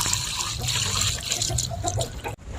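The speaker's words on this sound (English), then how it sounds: "and you pour the water inside." Water pours steadily into a tire on a poultry farm in Guyana, a continuous splashing gush close by that stops abruptly near the end, with no talking.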